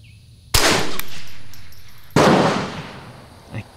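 Two loud, sharp rifle shots from a Bergara BXR Carbon rifle at an outdoor range, about one and a half seconds apart. Each crack is followed by a long, decaying echo, and a faint softer knock comes near the end.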